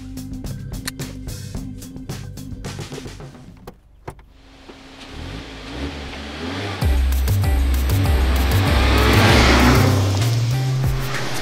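A 2019 Mazda MX-5 Miata Grand Touring engine idles with clicks and whirs, then revs up and accelerates hard, its rising roar growing loud and sustained.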